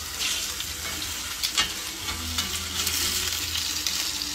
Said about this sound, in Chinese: 噼里啪啦的滋滋的声音，太美妙了